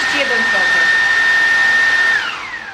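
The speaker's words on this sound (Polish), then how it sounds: "także będziemy teraz testować ten odkurzacz" Cordless vacuum cleaner running on turbo mode, a loud steady high-pitched motor whine with a broad airy hiss that holds for nearly three seconds and then winds down at the end, with no talking.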